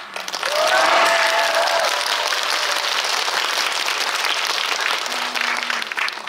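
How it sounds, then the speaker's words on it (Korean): Audience applause fills the venue at a special talk event for Connect: a dense, steady wash of clapping that swells within the first second and holds loud and unbroken for about six seconds, with a few faint tones early on. "현장에는 박수가 터져 나왔습니다"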